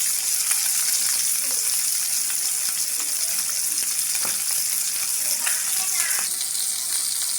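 Turmeric-coated fish sizzling and frying in hot oil in a pan, a steady dense crackle that carries on throughout with no talk.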